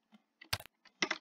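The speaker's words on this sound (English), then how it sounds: "you can use the arrow keys to look around" Computer keyboard keys, arrow keys used for looking around in a game, clack in a few quick close presses, with a louder cluster of strikes near the end and no talk.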